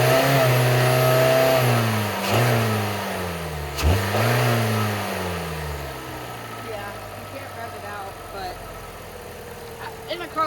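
The base engine of a 2018 Hyundai Elantra revs up several times, rising and falling in quick swells before dropping back to a steady idle, with a person talking over it.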